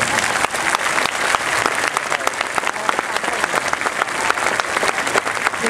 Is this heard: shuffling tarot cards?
no